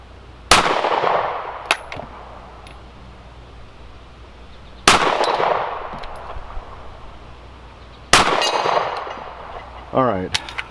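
Three loud, close gunshots from an S&W Shield Plus pistol at an outdoor shooting range, each a sharp crack trailing into a long reverberant decay, spaced several seconds apart with faint handling noise between shots.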